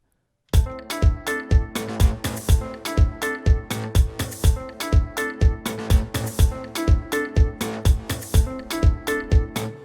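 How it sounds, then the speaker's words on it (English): A steady rhythmic strummed or picked guitar pattern in an Afro House track, with a thin, band-limited tone like it's coming through a small radio speaker, repeating evenly. "sometimes I love my guitar sounding like a radio thingy"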